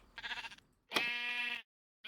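Two Minecraft sheep bleats, the first a shorter wavering call and the second a louder, sustained one, with a third starting at the very end; clear and close, with no talk.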